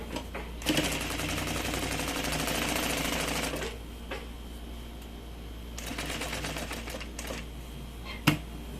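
A sewing machine stitching a large bag, a loud, close rapid whir of stitching that stops, then starts again in a shorter run for backstitching, with a few clicks and a sharp knock between runs.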